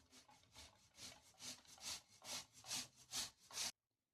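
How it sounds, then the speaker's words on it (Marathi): Peeled, boiled and cooled sweet potatoes rubbed against a grater in about nine even back-and-forth strokes, a soft rhythmic scraping that stops abruptly. "रताळे किसून घेऊ।"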